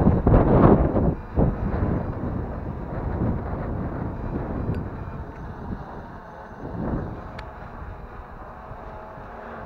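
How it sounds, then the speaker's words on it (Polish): Strong gusts buffet the microphone during a windy outdoor flight of a Bugs 3 Pro drone, loud broadband rumbling throughout that peaks early and eases slightly toward the end, with no voices. "A wieje naprawdę bardzo."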